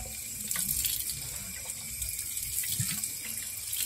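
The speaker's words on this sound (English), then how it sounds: "We are just using this tap water for cleaning" Tap water runs steadily from a faucet to rinse out a Toyota Corolla AE92 radiator, a continuous close splashing hiss with a few brief gurgles and knocks.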